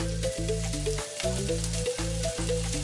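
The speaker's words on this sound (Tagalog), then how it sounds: "Yan, ibigisa." Onion sautéing in a hot pan for a homemade salmon dish, a loud steady sizzle with crackling spatter, broken by brief dips as the pan is stirred, with no talk over it.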